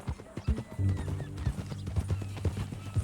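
Horse hooves clip-clop in the Red Dead Redemption 2 video game, a steady walking rhythm of close, distinct hoof strikes with a brief whinny and a low voice between them.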